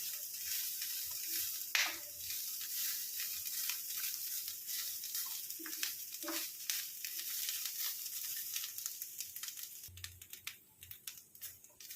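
Coriander seeds frying in a pan for panjiri, giving a steady close sizzle with scattered crackles and light scraping clicks, growing busier near the end.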